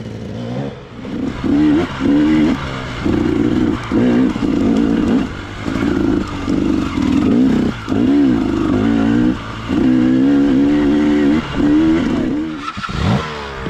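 A KTM 300 two-stroke dirt bike engine revs hard while being ridden: loud, close, buzzy bursts of throttle that rise and fall in repeated pulses, with a brief drop near the end.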